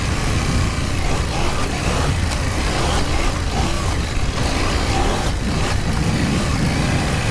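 A KTM 790 Adventure R motorcycle churns through deep sand, its engine roaring in a dense, continuous drone mixed with heavy wind buffeting close to the rider.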